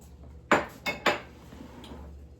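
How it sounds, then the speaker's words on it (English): Dishes being rinsed at a kitchen sink while making hot water cornbread: three short clattering splashes in quick succession, close and moderately loud, then a quiet running-water background. "Let me just rinse this out."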